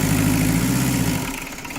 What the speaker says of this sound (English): It'll warm up pretty quick and the idle will come up